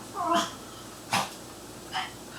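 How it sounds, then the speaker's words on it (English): A dog barks three times in the background during a gel nail set, short separate yaps spaced across a couple of seconds, moderately loud indoors with no speech over them. "Excuse my dog in the background."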